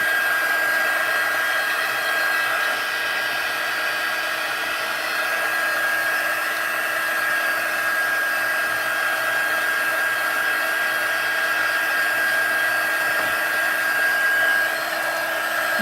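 A heat tool blows steadily while heat setting a stamped card made of basic white cardstock, a loud continuous whirring hiss with a constant fan tone that stays unbroken throughout.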